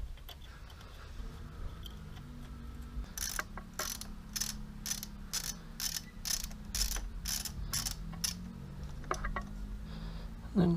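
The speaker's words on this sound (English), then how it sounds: "When replacing the tensioner pulley, make sure that the washer fits on this way. Thread the bolt in." A bolt is threaded by hand into the tensioner pulley of a BMW E46 engine, giving a close, regular series of quick ratcheting clicks in bursts over a low mechanical hum, with no talk.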